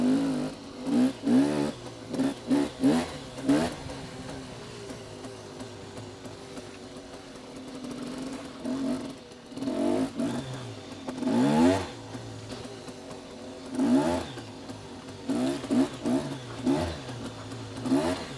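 A two-stroke enduro motorcycle engine revs repeatedly in bursts, rising and falling whines with brief lulls between, fairly close and continuous throughout.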